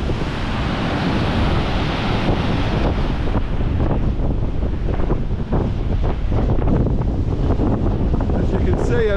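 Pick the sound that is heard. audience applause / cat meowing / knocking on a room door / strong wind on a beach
strong wind on a beach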